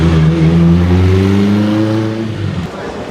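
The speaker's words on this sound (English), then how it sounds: "Chrome red flying spur." A chrome red Bentley Flying Spur's engine hums loud and close on a London street, a steady low droning tone that fades toward the end.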